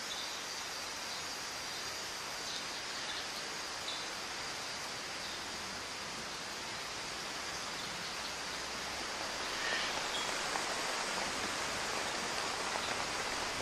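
Steady, dense rainforest rainfall hisses continuously at low volume, a constant wash of drops with no other sounds.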